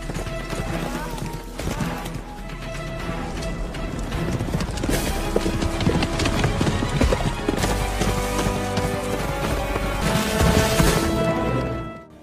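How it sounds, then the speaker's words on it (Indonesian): Horses galloping in a race scene from the film Azaad: rapid, dense hoofbeats pounding under a loud music score, with crashing hits and a rising swell that cuts off at the end. "Dengan kecepatan dewa, Azad berhasil menyusul rombongan kuda di depannya"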